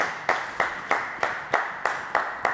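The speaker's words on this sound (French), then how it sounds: "Bon, on l'applaudit, non?" A few people clap in a steady, evenly spaced rhythm during a French live radio-style show, eight or nine sharp claps, close and fairly loud, with no talking over them.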